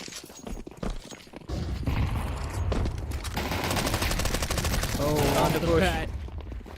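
Dense SMG fire in Counter-Strike 2 during a T-side push toward B on Anubis, loud sustained bursts under continuous caster talk.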